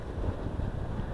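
Steady wind buffets the microphone outdoors on a windy day, a low continuous rumble with no other sounds.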